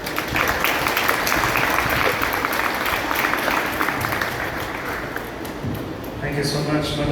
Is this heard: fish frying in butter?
no